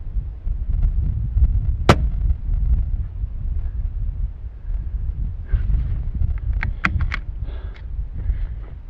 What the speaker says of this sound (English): I'm just going to shoot right on and we'll see what happens.